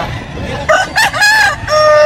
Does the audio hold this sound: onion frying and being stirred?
no